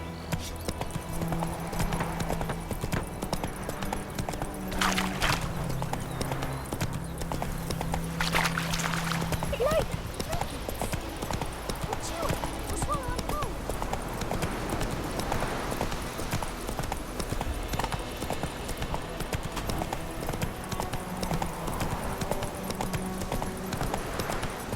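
Horse galloping in The Witcher 3, a steady rapid clip-clop of hooves running throughout under ambient game sound, with a faint whinny-like cry near the start.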